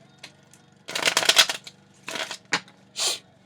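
Papery shuffling and riffling of tarot cards in several short bursts, close and crisp, separated by brief pauses.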